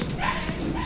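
Dogs in kennels aboard an Irish Ferries ship give short, close yips and whimpers packed into less than a second, fairly loud and alone.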